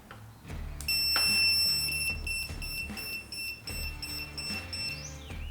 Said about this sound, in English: it beeps, so I guess that means it's working.